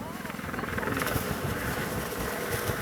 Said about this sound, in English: Still lots of helicopters flying.